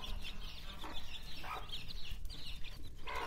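Hen clucking repeatedly in a farmyard where chicks and quail are kept, short nasal clucks coming in irregular bursts at moderate distance over a low background hum.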